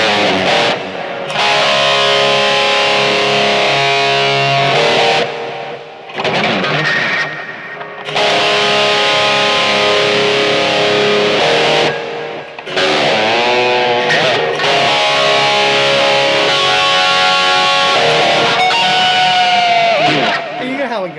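An electric guitar plays through a high-gain stack and a BOSS eBand JS-10 overdrive distortion. Loud, saturated riffs and sustained notes come in bursts with short pauses between phrases. A voice speaks at points.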